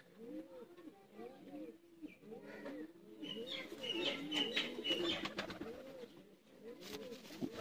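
Ali walay pigeons, a Sialkoti breed, coo in a steady rolling chorus of soft throaty calls, close and continuous, with a person talking over them partway through.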